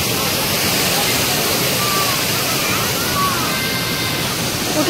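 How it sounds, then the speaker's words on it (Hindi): Water pours loudly and continuously at Longvoku waterfall in the hills, a dense steady roar close by that fills the whole scene, with a voice faintly audible beneath it. "ये साउंड की वजह से कुछ सुनाई नहीं दे रहा, इतना साउंड है पानी गिरने का।"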